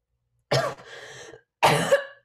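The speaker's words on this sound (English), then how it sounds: "Think you should get that cough checked out." Two separate bursts of harsh coughing about a second apart, close and fairly loud, with a rough throaty tail after the first burst and quiet in between.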